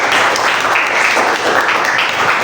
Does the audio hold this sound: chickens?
no